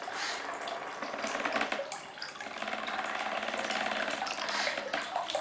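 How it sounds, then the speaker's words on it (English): Water rushes steadily through a reverse osmosis membrane while the pump runs, a dense continuous hiss and gurgle with a faint mechanical buzz underneath, fairly constant throughout. "I let the water flow a little bit."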